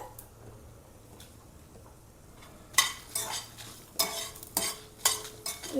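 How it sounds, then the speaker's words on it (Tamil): Green coriander and curry leaves with dried red chillies lightly fried in a pan for a Tirunelveli chammanthi. A quiet start gives way to a few bursts of spatula stirring and soft sizzling, close by, with no talking. "பச்சை கொத்தமல்லி ரொம்ப வறுக்க வேண்டாம் கொஞ்சம் அந்த லைட்டாக வறுத்தா போதும்"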